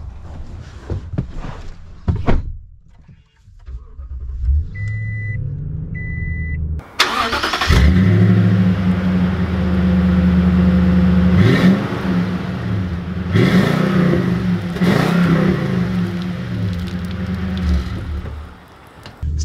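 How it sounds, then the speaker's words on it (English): A 2020 Toyota Tundra TRD Sport SR5 pickup truck starts up with a sharp crank, then idles and revs in a steady deep engine drone with several rising surges, close and loud, with no talking. "let's take this SR5 out and see how it drives"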